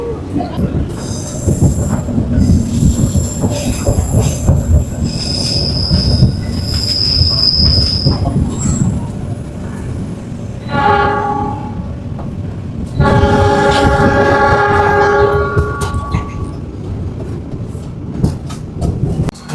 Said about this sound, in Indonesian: pukul 8 lebih 13 menit kereta api Pangrango tiba di stasiun Maseng ya